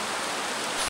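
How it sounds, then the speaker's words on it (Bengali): Rain falls on a hill trail near a waterfall, a steady, airy hiss of drops and rushing water that holds even throughout, with a faint low thump near the end. "এই যে বৃষ্টি হয়েছে"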